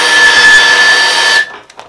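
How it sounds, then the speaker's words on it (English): An electric drill turns the table feed on a milling machine while a frog-shaped soft plastic bait mold is being machined, giving a loud steady motor whine that cuts off sharply near the end, then a few faint clicks. "How y'all like my electric feed there? It's just a drill that I"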